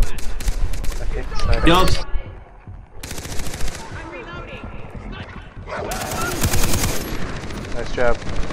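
Sniper and automatic gunfire in the jungle shooter Far Cry 3 during co-op play, with sharp bursts of loud shots coming in clusters while players shout and talk over the fighting.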